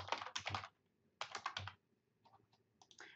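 Typing a paper title on a computer keyboard: two brisk bursts of rapid key clicks, each about half a second long and fairly close, followed by a few softer, scattered keystrokes.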